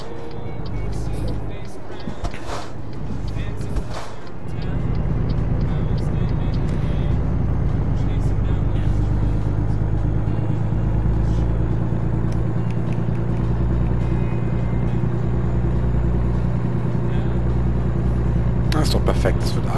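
A fast car in American Truck Simulator drives over hills, its steady low engine rumble running continuously and loud after a brief quieter start, with faint talk at the edges.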